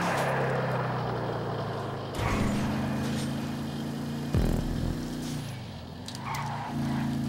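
Engine of the Buccaneer muscle car in the video game GTA 5, a steady droning growl that shifts pitch as it revs and drops between gears, with a brief scrape or skid partway through.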